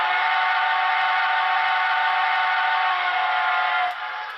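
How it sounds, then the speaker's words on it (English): Whistle of an HO scale Broadway Limited T1 Berkshire steam locomotive with Paragon 4 DCC sound, one long steady chime-like blast lasting about four seconds, loud and unbroken, then dropping off sharply. "Whistle."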